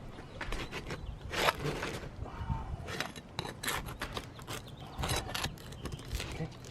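A roof shingle glued down to a garage roof is pried and pulled up with a pry tool, giving repeated close scraping, rasping bursts with short pauses between pulls.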